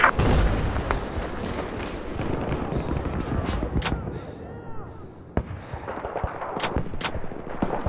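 Battlefield 4 gunfire in a Dragon Pass Rush match: rolling bursts of automatic fire and booming explosions, with several sharp, loud cracks standing out over the dense battle noise.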